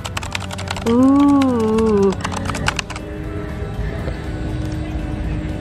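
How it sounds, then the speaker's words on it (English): Rapid clicking of a noisy mechanical gaming keyboard at an escape room venue in Doha Festival City, Qatar, with dense keystrokes at first and then sparser ones. A voice exclaims briefly over the typing. "It's a mechanical keyboard."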